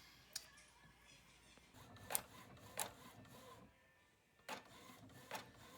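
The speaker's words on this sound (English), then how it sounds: "we just inserted the freezer paper into our normal inkjet at-home printer, and as you can see, it prints out pretty lightly" An ordinary home inkjet printer prints onto freezer paper with quiet mechanical whirring punctuated by several sharp clicks and short carriage bursts at irregular intervals, heard close up with no talk.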